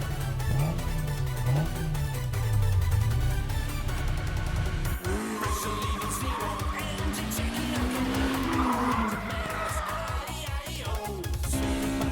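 A mechanically tuned anime race car from Initial D speeds downhill with a loud, close engine drone whose pitch rises and falls through gear changes, topped by squealing tires.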